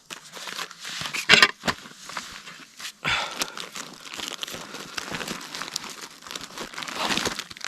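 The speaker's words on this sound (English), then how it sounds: "This as well, emergency blanket," An emergency blanket's plastic packaging crinkling in the hands, with loud bursts of crisp, rustling crackle and quieter handling in between, close and with no voices, during gear preparation for a Canadian winter survival trip.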